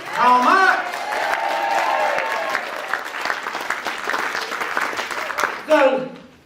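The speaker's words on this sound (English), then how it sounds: "Would you please welcome, huge round of applause, Karl Marx" A debate audience bursts into loud, sustained applause with cheering to welcome someone dressed as Karl Marx at a lifeboat debate, the clapping dense and steady for several seconds before a brief swell near the end.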